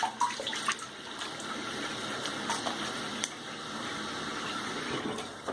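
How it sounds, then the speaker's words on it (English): Running water rinses a freshly shaved head, a steady moderate splashing stream broken by a few brief louder splashes and clicks, with no talking. "I'm gonna rinse my head real quick"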